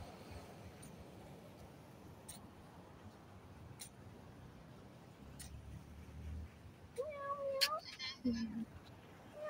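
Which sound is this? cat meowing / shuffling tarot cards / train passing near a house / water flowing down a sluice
cat meowing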